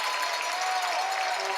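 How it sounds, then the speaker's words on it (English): Hockey fans applaud in an arena, a dense, steady wash of clapping and crowd noise filling the short span, loud and even, with a faint tone running beneath. "Good long round of applause for all his hard work over the last 13 years."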